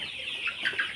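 Sonali chickens on a poultry farm cluck in short, close bursts against a faint background, several quick calls within a single second.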